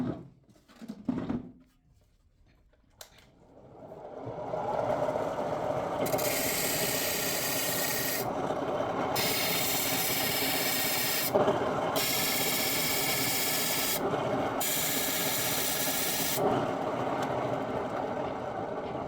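A hand saw being sharpened with a file: after a few soft knocks, a steady rasping scrape runs continuously, broken by short pauses between bright, harsh strokes, close and fairly quiet.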